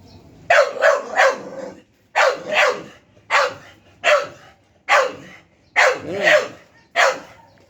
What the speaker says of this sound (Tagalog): Yung tinatahol niya yung kuting.